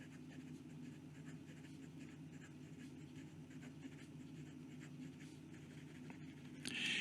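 Quick writing with a Moonman M800 fountain pen fitted with a Bock nib, a faint, steady scratching of nib on paper heard close up over a low background hum, with no talking.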